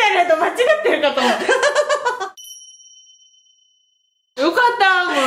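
A bright quiz-show ding marks a correct answer about udon flour during a flour-cooking session, a single clear chime ringing out between bursts of laughter and chatter.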